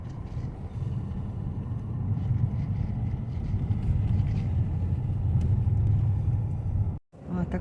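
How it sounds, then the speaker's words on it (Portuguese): Car driving past through a snowstorm at Lake Tahoe, a steady low rumble of engine and tires on snow that swells and stays loud for several seconds before a brief dip, with no other sounds standing out. "Vem o carro lá."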